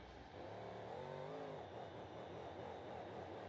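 Monster truck engine in BeamNG.drive revving on and off throttle, a loud, continuous engine drone that rises and falls in pitch, close and alone.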